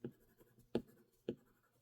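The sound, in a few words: drawing yellow flowers with pastel on paper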